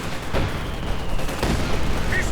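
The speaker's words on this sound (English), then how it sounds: "Mortar rounds actually wiping out the guards infantry." Mortar rounds firing in a Company of Heroes 2 battle, wiping out Soviet guards infantry: repeated dull booms and bursts over a dense, constant wash of battlefield noise, loud throughout the short stretch.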